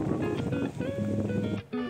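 Steady loud wash of rain and rushing water at Garjiya Devi temple in Ramnagar, a continuous broadband roar with a brief dip near the end.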